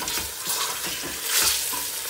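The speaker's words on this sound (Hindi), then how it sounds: "हल्की आंच पे अच्छे से भूनना ताकि ये अच्छे से भून जाए" Homemade korma-style biryani masala for mutton biryani is sautéed and stirred on low heat, a close, continuous hissing sizzle with soft rhythmic scraping pulses and no voices.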